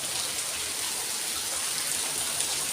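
Steady rain falls in an even, dense hiss that holds at one level throughout, with no voices or other distinct sounds.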